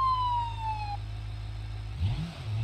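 A police car siren in the BeamNG.drive driving game gives a high, slightly falling electronic tone that cuts off after about a second, leaving a low engine drone, then a brief rev near the end.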